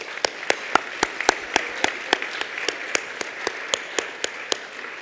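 Audience applause at a healthcare awards ceremony, a steady wash of clapping from a crowd with sharp individual claps standing out, sustained and even for the whole stretch with no talk.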